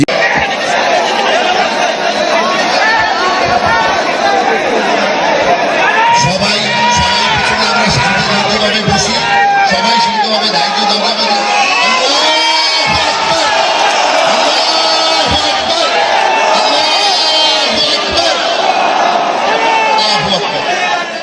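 A large crowd at a Muslim leaders' gathering attended by Asaduddin Owaisi produces a loud, dense wall of many voices: constant chatter, scattered shouts and whoops, unbroken for the whole stretch.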